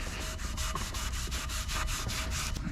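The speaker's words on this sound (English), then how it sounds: "take a Scotch-Brite and scrub it down" A Scotch-Brite pad scrubs a Yamaha 225 SHO outboard drive shaft, a steady rhythmic rasping of back-and-forth strokes, close and loud, with no voices.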